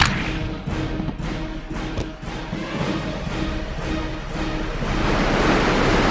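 Steady broadband rushing of a waterfall in the 1999 PC game Aliens versus Predator, a dense continuous roar with faint low thuds, no voices.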